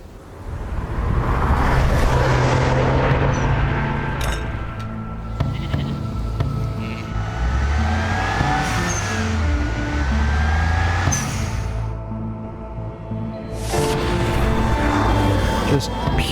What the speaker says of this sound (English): Let's listen into all the sounds of this amazing Porsche